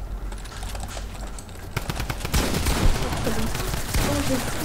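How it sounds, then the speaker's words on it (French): Incoming gunfire in Fortnite, rapid bursts of cracking shots from several directions that build into a dense, loud barrage, with someone talking over the shooting. "Oh, mais mec, je me prends des balles de partout."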